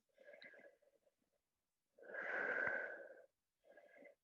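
A slow, breathy yoga exhale folding forward, heard as a long audible breath in the middle, flanked by shorter breaths before and after, quiet and close.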